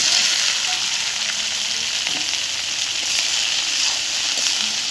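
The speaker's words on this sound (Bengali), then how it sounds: "হালকা একটু নেড়ে চেড়ে আমি ঢেঁড়সগুলো দিয়ে দেবো" Okra, known as bhindi, fries in a pan with a bright, even hiss of oil that stays constant throughout, with faint occasional stirring touches and no voices.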